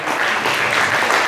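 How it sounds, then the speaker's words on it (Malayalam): An audience applauding together, dense steady clapping, loud and sustained from start to finish. "നമുക്ക് നല്ലൊരു കയ്യടി"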